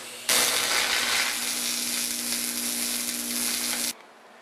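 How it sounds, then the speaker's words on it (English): Welding on a stock intake manifold under pure argon shielding gas: a steady, close crackling hiss that starts abruptly, holds evenly with a faint underlying hum, then cuts off sharply, followed by quiet. "Here's the start of the welding."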